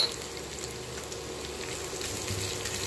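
Chopped onions and green chilies frying in a pan for a spiced raw banana stew, a soft, even sizzle held close and quiet for a few seconds with no voices.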